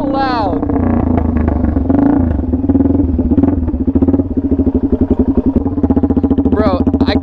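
A straight-piped Suzuki DRZ400 supermoto runs very loud and close, its engine barking and revving with a rapid staccato exhaust pulse that chops into a fast rhythmic idle, with shouting heard over it.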